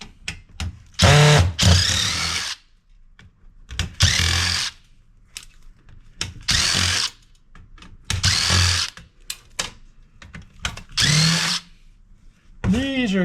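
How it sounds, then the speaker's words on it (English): Power drill backing screws out of a flat screen TV being scrapped: repeated loud whirring bursts of a couple of seconds each, separated by short gaps, close by, with rattling handling noise in between. "now we're going to go around and get screws undone."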